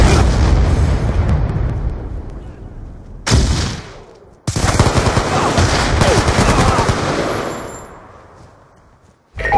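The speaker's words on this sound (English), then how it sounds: "Friendly Hellstorm missile inbound." Video game Hardpoint match on the Yemen map, with a Hellstorm missile strike and heavy gunfire: dense rapid shots and explosive bursts, a sharp blast partway through, then a sustained roar of firing that fades out near the end.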